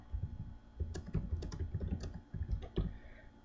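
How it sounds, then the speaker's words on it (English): Keys clatter on a computer keyboard in quick, uneven bursts of soft taps with a few sharper presses, fairly faint and close, with no voices. "you hit enter, it just takes you to that next line. Then you hit the backspace to go backwards."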